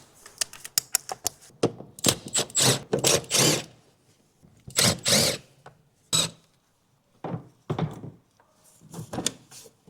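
A power gun undoes T25 screws on a VW Caddy air filter housing, giving close, sharp whirring bursts in irregular clusters separated by short pauses.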